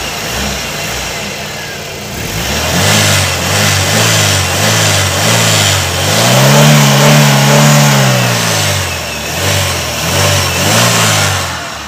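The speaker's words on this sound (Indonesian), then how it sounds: "Oke, ini mesin, kita dengarkan mesinnya." A Chevrolet Aveo LT city car engine runs with the hood open, idling steadily, then revving up in a smooth rising-and-falling swell before settling back to a low, even hum.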